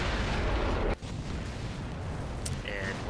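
An Su-18 self-propelled artillery gun in World of Tanks fires a single heavy boom that breaks off sharply, followed by a lower rumble and a brief faint high chirp.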